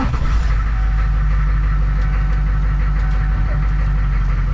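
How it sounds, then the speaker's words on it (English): Hummer H1 diesel engine idling after a wait-to-start, a loud, steady low rumble with a constant throb from start to end. "I gotta do a wait to start, just like a normal diesel."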